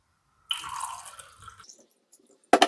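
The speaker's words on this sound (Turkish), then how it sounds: "Musluk suyunu dolduruyorum." Tap water pours briefly into a Brita filter pitcher, a short hissing splash lasting about a second, then tapering to faint trickles and drips before a sharp knock near the end.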